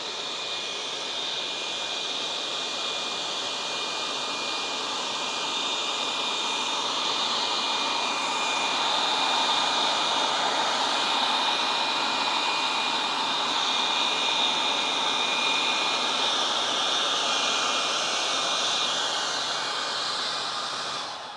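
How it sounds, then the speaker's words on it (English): A Yarbo robotic leaf blower runs on a lawn, producing a steady, loud, broadband rushing whine with a faint high tone, swelling slightly and holding for the whole stretch with no talking. "That's the Yarbo blower right there"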